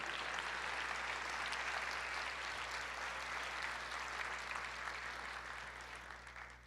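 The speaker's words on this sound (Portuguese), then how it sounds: "Quantos querem aplaudir o Senhor" A church congregation applauds during a Portuguese-language worship service, a dense, steady wash of clapping from many hands over a low hum, filling the room at an even level and tapering slightly at the end.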